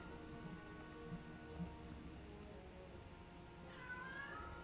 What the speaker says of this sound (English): You might be able to already hear the cats in the background.